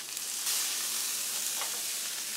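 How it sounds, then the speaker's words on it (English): Stew meat searing in a skillet, a loud continuous close sizzle that flares briefly and holds steady throughout, no talking. "Let it sit, let it sear."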